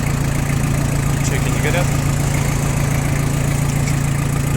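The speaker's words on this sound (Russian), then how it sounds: "Работает хорошо трактор" A Mitsubishi MT2201 tractor engine idles steadily at close range, a constant low mechanical drone with a brief voice speaking over it.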